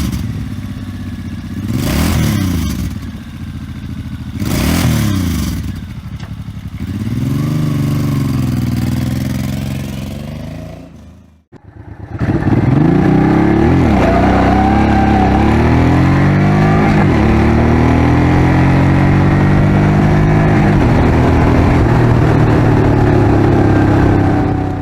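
A Suzuki Boulevard M90 motorcycle engine rumbles close by, first in short separate revs, then after a brief silent break as a sustained loud running drone with rising and falling throttle.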